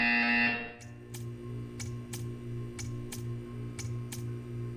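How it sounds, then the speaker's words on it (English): A loud electronic buzzer from the video game Portal 2 sounds briefly, then cuts off, leaving a steady hum and a series of sharp, evenly spaced clicks. "You will hear a buzzer."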